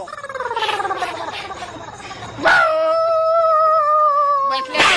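A person imitates a dog's howl, a long wavering vocal cry rising and falling, followed by a sustained, steadier howl held loud and close.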